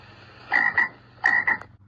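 A frog croaks in two paired bursts, each a quick double call, loud and near against a low steady hum.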